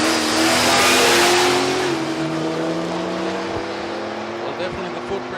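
A Chevy drag car blasts down the strip at Palmyra Raceway, its loud engine roar peaking early then fading with falling harmonic tones as it pulls away, a commentator talking over it.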